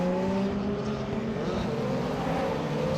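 Lotus Evora race cars at Spa accelerating out of a chicane, a loud, continuous engine roar with rising tonal harmonics that fills the whole stretch, close and dense with overlapping engines.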